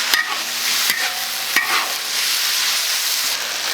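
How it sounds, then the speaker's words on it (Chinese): Sliced beef stir-frying in a wok with green peppers, a loud continuous sizzle broken by a few sharp spatula knocks against the metal. "再把一盆的牛肉下进去， 给它稍微炒个1分钟就可以了。"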